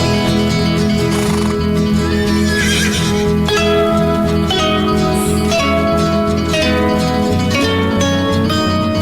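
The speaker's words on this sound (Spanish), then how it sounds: "Escuchó un relinche por ahí." A horse neighs loudly over lively folk music playing throughout, the whinny rising and falling clearly above the steady instrumental backing.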